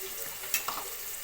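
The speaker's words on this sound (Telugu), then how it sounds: "ఉల్లిపాయ వేగుతుంది, బ్రౌన్గా వేగిపోయింది" Onions browning in a pan for an Andhra-style gongura mutton curry, cooked village style: a faint, steady sizzling hiss with a couple of soft clicks.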